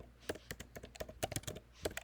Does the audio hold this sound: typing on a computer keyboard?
yes